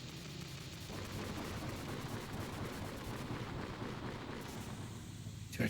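In Metal Gear Solid, a crackling burst of explosive noise rumbles on for several seconds, rough and sustained, ending in a sharp final pop.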